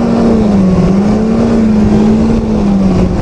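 A snowmobile sled engine drones loudly and steadily at high revs while riding, close and continuous, with a slight wavering pitch.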